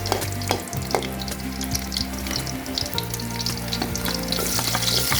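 Garlic sizzles in hot oil for pork pochero, a steady close frying crackle with bursts of stirring and scraping against the pan throughout.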